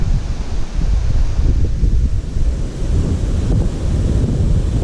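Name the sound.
wind blowing on a mountain trail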